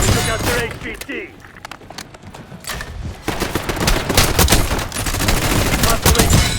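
Gunfire in the video game Black Ops 6 rattles in dense bursts of rapid automatic shots, quieter in the middle and building into sustained heavy fire toward the end, with voices talking over it.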